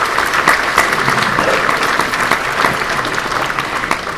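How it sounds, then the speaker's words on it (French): Conference audience applauding a speaker after a talk on pesticide residues in beeswax, a dense, steady roomful of clapping that stays loud throughout with no voices. "Merci Francesco, je crois qu'on peut l'applaudir."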